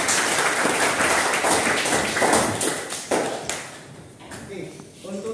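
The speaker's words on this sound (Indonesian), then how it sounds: "Beri aplaus dulu untuk kita semua." Applause and scattered clapping from a classroom group fill the room, a dense run of hand claps that fades away near the end while voices murmur underneath.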